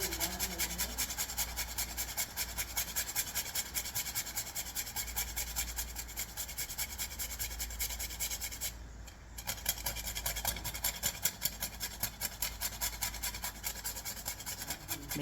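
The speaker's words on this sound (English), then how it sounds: "I'm grating this nutmeg in." Whole nutmeg grated by hand into a cassava pone mixture, a steady, close, rhythmic rasping scrape with one brief pause.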